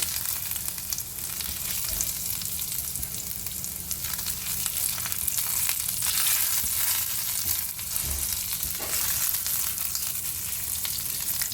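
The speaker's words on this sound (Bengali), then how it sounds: "দেখো আদাটা বেশ ভাজা হয়ে গেছে, সুন্দর গন্ধ বেরোচ্ছে।" Ginger fries in a pan as the base for urad dal, giving a continuous bright sizzle and crackle that holds steady throughout, with only occasional faint stirring underneath.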